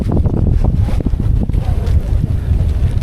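Strong wind sweeps across the high, misty rock summit of Illikkal Kallu, roaring and buffeting hard against the microphone in loud, uneven gusts with no talk.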